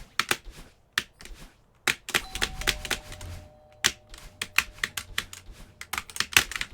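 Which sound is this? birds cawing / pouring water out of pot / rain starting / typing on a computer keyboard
typing on a computer keyboard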